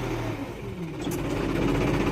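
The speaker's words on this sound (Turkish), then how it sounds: "Bayır yukarı zaten bir takviye bile şey yapıyor traktör," A tractor pulling a rotavator through hard, clumpy soil strains uphill, its engine giving a steady, loud mid-pitched drone that rises slightly as it labors, close by with no talking.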